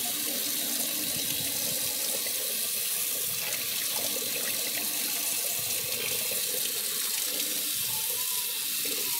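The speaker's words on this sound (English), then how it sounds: "Rinse the cold water because we don't want to melt the candles in the sink." Cold water runs steadily from a sink tap over candles being rinsed, a continuous close splashing flow with no talk.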